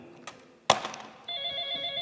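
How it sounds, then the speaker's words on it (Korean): A telephone bell rings during a stage play, a steady electronic trill starting after a sharp knock and some faint shuffling, fairly quiet and heard alone without talk. "지금 전화 또 오니까, 전화벨"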